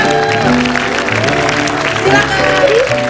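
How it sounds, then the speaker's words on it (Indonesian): Studio audience clapping on an Indonesian television talk show, a steady, dense wash of applause lasting the whole stretch at fairly loud level, with sustained musical tones and voices layered over it. "tepuk tangan dong buat Dedi dan Aska."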